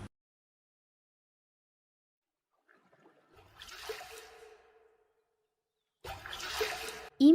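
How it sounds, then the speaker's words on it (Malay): Water sloshes and splashes in a radio drama scene, first as a softer stretch of agitated water, then a louder burst after a pause. No voices are heard. "mendengar bunyi kocakan air"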